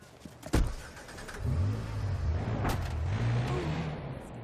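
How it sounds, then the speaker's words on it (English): A little pink Zusume R car in Watch Dogs 2 pulls away with a sharp thump, then its engine hums steadily at close range while driving, the motor note rising and falling a little. "Love that little pink car that you always get."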